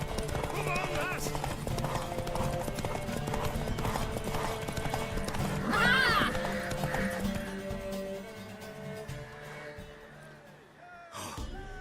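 A horse gallops with rhythmic clip-clop hoofbeats through the sound of a Witcher 3 race, mixed with neighs, panting and dialogue voices, the hooves fading in the last few seconds.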